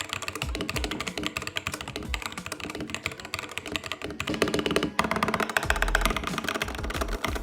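Fast continuous typing on a budget gaming keyboard with silver switches, crisp clacky keystrokes in quick irregular bursts with occasional heavier bottom-out thuds, close and alone.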